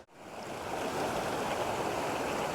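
Mountain stream rushing through forest on the hike up Mount Dickinson in Rocky Mountain National Park; a steady, full, close rush of water that rises in the first moment and then holds, with no voices.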